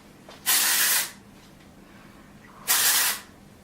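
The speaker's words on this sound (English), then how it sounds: "So I'll just spray that through my hair." Two bursts of texturizing hair spray hiss out close by, each lasting about half a second, separated by a short quiet pause.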